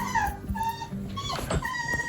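A pet dog inside a campervan whimpers and yips in short, high, wavering cries, fairly quiet, with some faint background noise and no one talking.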